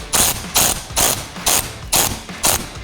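A ratchet drives a size 10 nut down tight on a 2021-or-later third-generation Ford F-150 Raptor during a fog light kit install, making six evenly spaced bursts of close, loud clicking with no talk.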